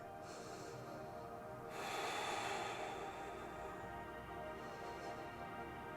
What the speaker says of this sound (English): breath is deep.